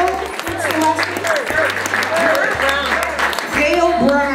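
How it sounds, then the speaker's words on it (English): Audience applause at a charity auction during a Polish Oplatek gathering, a steady clatter of many hands with a low hum underneath and voices calling out over it. "Let's have a round of applause."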